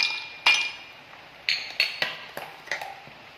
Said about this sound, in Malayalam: ആദ്യം ഒരു 3 ഐസ് ക്യൂബ് ഇതിലോട്ടേക്ക് ഇട്ട് കൊടുക്കുന്നുണ്ട്